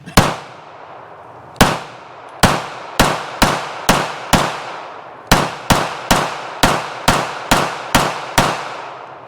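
Springfield Prodigy 1911SR pistol fired at close range, about fourteen sharp, loud shots, one opening shot, then strings of quick evenly spaced rounds, each with a short ringing decay.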